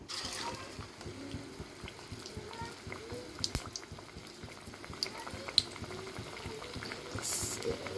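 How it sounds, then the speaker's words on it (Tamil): Spinach and onion bajji fry in oil over a medium flame, giving a quiet, steady bubbling with faint scattered pops. Nobody speaks. "மீடியம் ஃப்ளேமில் வச்சு பொரித்து எடுத்துக்கோங்க"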